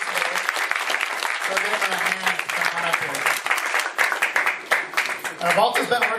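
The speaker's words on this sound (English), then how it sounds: "So let's give them a big round of applause." Audience applause at a furry convention's opening ceremony, dense crowd clapping with some cheering, rising and falling in waves, with voices talking underneath throughout.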